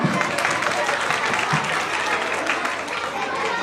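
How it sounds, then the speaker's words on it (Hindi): An indoor audience at a Mother's Day school celebration claps loudly and continuously in dense applause for the mothers, with crowd noise and voices mixed in. "बिल्कुल तो जोरदार तालियां"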